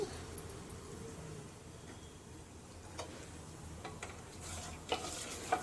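Ghee frying steadily in a pan for vegetable paneer biryani, a soft continuous sizzle with a few sharper crackles and pops toward the end, fairly quiet and with no talking.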